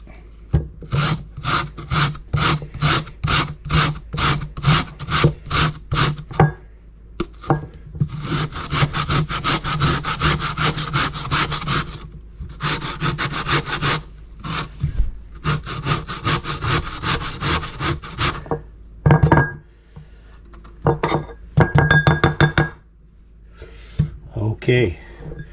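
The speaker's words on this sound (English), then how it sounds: "And then we need some grated gingerroot. I always use frozen. That way it just grates much easier." Frozen ginger root scrapes against a grater in quick, rhythmic strokes. The short runs of rasping are close and loud, and they break off into pauses and a few scattered knocks.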